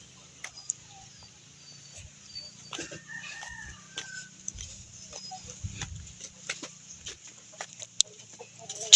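Chickens cluck and call repeatedly outdoors, moderately close, short bursts scattered over a low steady hum, with occasional faint clatter.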